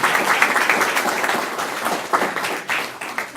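An open-house meeting audience claps for the volunteer who organized the food, a lively burst of hand clapping from a room full of people, steady and close for several seconds.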